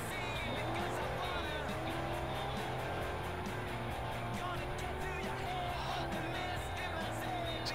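Racing car engine revving with tires squealing as it drifts down a road in the video game Forza Horizon, a loud continuous roar with shifting pitch and occasional skids, with a voice talking faintly underneath.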